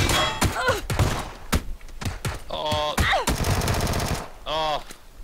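Rapid bursts of video-game gunfire crackle close and loud, with single shots and thuds between them and a speaking voice over parts of the clip.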